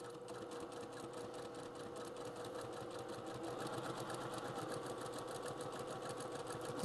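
Home sewing machine stitching around an appliqué on a state map quilt, a steady fast mechanical whir with a rapid rhythmic needle pulse that holds at even loudness and swells slightly toward the end, close up with no talking.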